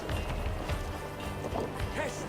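A horse gallops in the game Assassin's Creed Valhalla, with quick, rhythmic hoofbeats thudding close by through the busy game mix.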